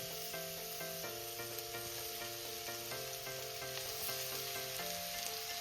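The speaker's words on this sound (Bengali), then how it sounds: "এবার আমি এর মধ্যে দিয়ে দেব গ্রেট করে রাখা গাজরটা এটা কিন্তু ঘিয়ের সঙ্গে খুব ভালো করে ভেজে নিতে হবে" Grated carrot frying in ghee for gajar ka halwa, a faint, steady sizzle that runs continuously with a constant hiss and no speech.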